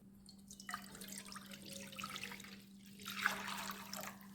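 A litre of water pours into a kadai on a stove, a faint, steady splashing trickle that swells toward the end over a low electrical hum.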